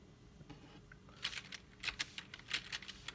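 Clicks and taps of typing on a computer keyboard, a few scattered keystrokes followed by quick irregular clusters, close and fairly quiet with no talking.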